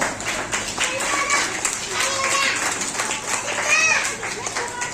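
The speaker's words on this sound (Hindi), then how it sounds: "तो इनका एक बार तालियों के साथ बच्चों स्वागत करें" Children at a Teachers' Day celebration clap to welcome a guest, a brisk, fairly loud crowd of small hands mixed with excited children's voices and chatter throughout.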